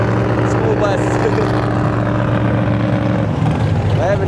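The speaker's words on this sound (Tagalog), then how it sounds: "School bus." A school bus engine runs steadily at a motorsport event at Grand Bend Motorplex, a low continuous drone with a few passing higher whines, loud and close, with people chatting over it throughout.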